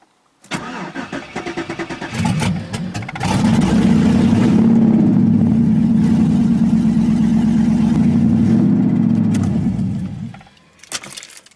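A 5.3 LS V8 swapped into a car, likely running on seven cylinders, cranks and fires after a jangle of keys. It then settles into a loud, slightly uneven idle for several seconds before shutting off.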